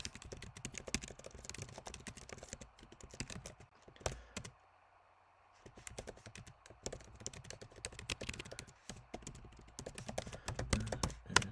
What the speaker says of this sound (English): I suppose I better type that in the box in case the sound isn't working.